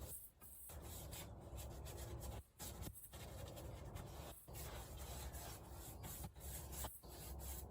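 Paintbrush drawn in long, steady strokes spreading paint on the wooden frames of a 30-foot dory under construction, a close continuous scratchy swish broken by brief pauses between strokes.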